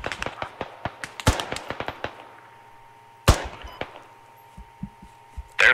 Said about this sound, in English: They're firing at you, you gotta fire back.